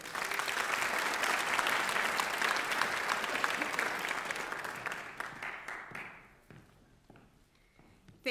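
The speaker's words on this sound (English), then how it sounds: "Let's give him another round of applause" A crowd applauds at a Martin Luther King Jr. regional celebration, with loud, dense clapping that holds steady for several seconds before thinning out to a few scattered claps.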